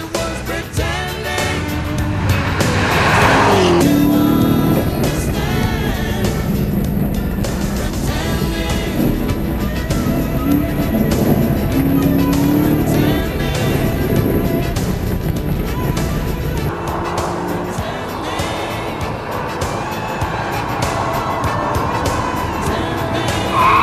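A Chevrolet Corvette Z06 with a 7-liter V8 drives along, its engine a loud, sustained roar with shifting pitch from gear changes and acceleration, heard continuously from nearby, at times under someone talking.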